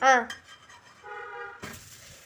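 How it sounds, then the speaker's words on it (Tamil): A drumstick-leaf dosa is turned over on a pan: a sharp metal clink and scrape of the spatula, then a soft, brief sizzle as the dosa settles back onto the hot surface. "அங்க ஒரு பக்கம் வெந்துருச்சு திருப்பி போட்டுக்கிறோம்"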